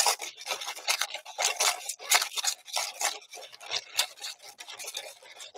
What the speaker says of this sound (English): And this is just sand from the Dollar Tree. That's all it is. And I'm going to mix it.